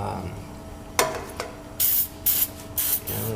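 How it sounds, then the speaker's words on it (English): Several short bursts from a spray can hiss onto motorcycle exhaust hardware on a 2014 Yamaha FJR 1300, close and crisp, with light handling noises in between. "Should probably go ahead now and spray the other side."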